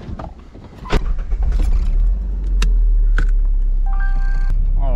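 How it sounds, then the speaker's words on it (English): A Nissan 300ZX sits idling in a driveway with a deep, close rumble. A few sharp clicks and clunks are heard, then the engine note rises steadily as the car starts to turn around. There is no talking. "I think I'm gonna turn the car around first"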